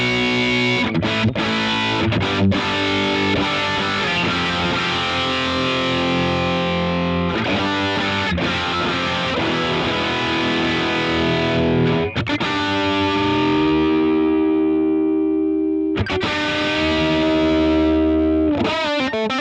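Electric guitar driven through an Origin Effects Halcyon overdrive pedal gives thick, valve-like distorted chords and sustained notes, played loud and alone with brief pauses between phrases.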